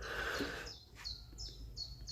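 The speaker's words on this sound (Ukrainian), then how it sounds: "Естественно, шпаки тут, ну." Starlings chirp outdoors in a series of short, thin, repeated calls at moderate distance, following a burst of rough, broadband noise at the start, with no talking.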